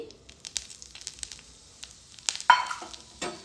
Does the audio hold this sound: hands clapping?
no